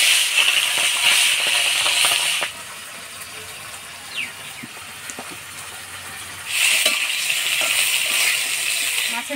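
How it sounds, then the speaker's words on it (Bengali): Catla fish heads frying in hot oil, a loud hissing sizzle that drops away to near quiet with a few faint clinks before surging back to full strength. "মাছের মুড়াগুলোও ভেজে নিব।"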